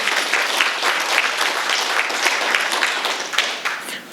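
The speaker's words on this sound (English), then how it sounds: "Give yourselves a big round of applause." Crowd applause at a press event for a tech access hub at a library, a thick, even roar of many hands clapping close and loud, holding steady before easing slightly at the end.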